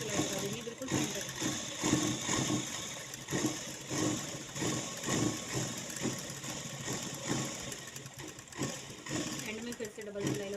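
An electric sewing machine at a boutique runs a continuous steady whirring stitch along the center of a seam for a jhabla, moderately loud, while someone talks over it throughout.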